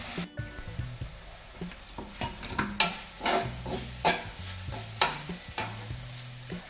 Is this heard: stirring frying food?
yes